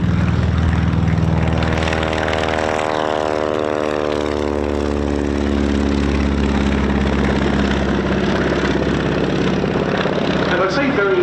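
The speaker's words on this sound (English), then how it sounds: "rolling for takeoff is Peter Kuipers with the Beech D-17S" A Beech D-17S rolls for takeoff at the RAF East Kirkby airshow. Its engine roars loud and close, the droning tone climbing steadily in pitch as the power comes up.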